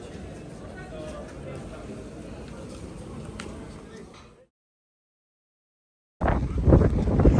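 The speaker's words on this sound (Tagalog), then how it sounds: "Ang lakas ng hangin mga kalabs" Strong wind buffets the microphone at a hilltop in Lindos, a steady roar that cuts out briefly, then returns in louder, gustier bursts.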